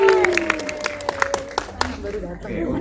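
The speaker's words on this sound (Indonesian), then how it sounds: "Teman-teman, mari kita beri tepuk tangan untuk Samo Rafael" Press-conference audience at a musical film launch gives brief scattered clapping, with a few sharp individual claps standing out while a person keeps talking over it.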